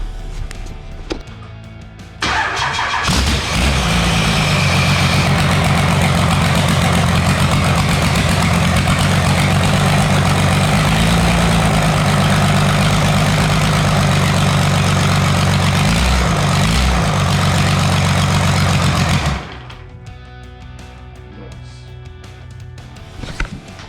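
A Cummins 6BT diesel engine being readied for a GU Patrol build cranks briefly, fires and settles into a loud, steady rumbling idle close by, then cuts off.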